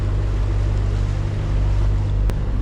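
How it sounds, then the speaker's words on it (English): Sea water breaking over rocks at high tide near a wreck on a St Helens shoreline, a steady loud roar of surf and wind with a low rumble throughout, no voices. "you can see the water breaking over there"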